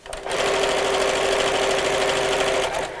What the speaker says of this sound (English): let's start again there and lengthen the seam and sew